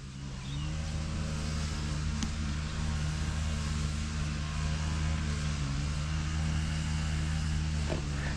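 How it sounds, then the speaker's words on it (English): A neighbor's petrol-powered garden tool drones on steadily in the background, a continuous buzzing engine hum with slight dips in pitch. "There's always some neighbor somewhere with a petrol-powered garden tool and making noise when I'm trying to make a video."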